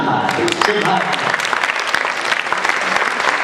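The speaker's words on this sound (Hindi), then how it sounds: "जोरदार ताली बजाइए" Loud, steady applause from an audience at a Maithili children's theatre play, a dense continuous wash of clapping that fills the whole moment without a break.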